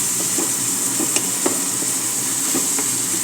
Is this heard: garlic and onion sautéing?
yes